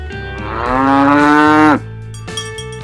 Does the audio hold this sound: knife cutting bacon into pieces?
no